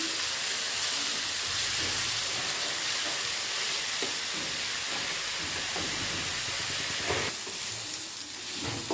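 Onion, garlic and ginger paste browning in a pan for a raw banana kofta curry, giving a continuous close hiss and sizzle with soft stirring underneath.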